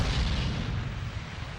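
Wartime cannon fire from Vichy French forces meeting the British and American landings in North Africa makes a dense, continuous low rumble of booms, faint and distant, with no voices.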